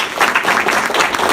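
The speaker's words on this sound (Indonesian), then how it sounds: "Tepuk tangan." A crowd at a community meetup claps together in a dense, loud burst of applause, close and continuous, with no talking over it.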